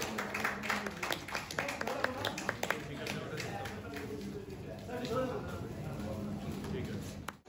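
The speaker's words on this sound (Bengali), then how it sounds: "Please, আর একটু জোরে করতালি সকলে মিলে।" An audience claps at the inauguration ceremony of a Shyamoli Paribahan Volvo 9600 bus, a burst of scattered hand claps early on that fades under an announcer's voice.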